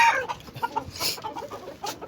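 Hens let out of their cage cluck in short, close bursts, with a few sharper, louder calls over a brief moment.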